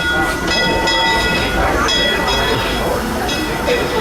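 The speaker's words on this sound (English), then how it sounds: "like this train rolling in," A Disneyland train rumbles into the station steadily with a bright bell clanging repeatedly over it, amid crowd chatter and broad background noise.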